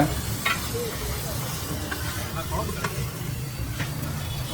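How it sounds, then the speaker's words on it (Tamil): Chicken chukka fries with onion and pepper on a street-stall pan, a steady sizzle with scraping stirs and spatula clinks under background chatter and traffic. "சிக்கன்லாம் எடுத்து ஆனியன்லாம் போட்டு ஃப்ரை பண்ணி பெப்பர்லாம் தூக்கலாக போட்டு கொடுக்குறாங்க"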